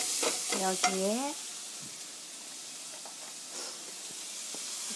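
Garlic and onion fry in a pan for a beef and zucchini stew, with a steady hissing sizzle and occasional stirring clicks, after a brief word from a woman at the start.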